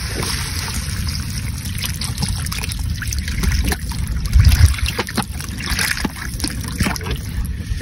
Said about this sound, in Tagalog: At maglalagay na tayo ng tubig.